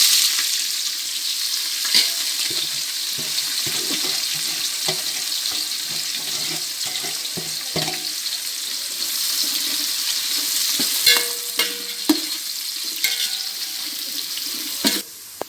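Onions fry and are stirred in a pan for a seeraga samba chicken biryani, a steady hissing sizzle broken by intermittent clicks and scrapes of a spatula, close and without talk.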